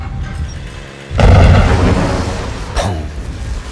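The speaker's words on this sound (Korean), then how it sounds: "펑 그렇게 터지고 맙니다" A house explodes from fire in a film: a sudden loud deep boom bursts out after a quiet lead-in, rumbles and decays, followed by a smaller second burst.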